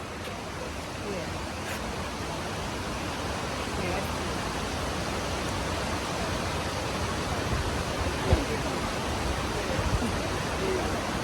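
Outdoor waterfall in a nature setting, a steady, dense roar of falling water that holds evenly throughout, heard close and loud while people talk quietly nearby.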